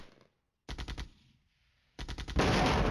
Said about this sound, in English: Now he's bombing there.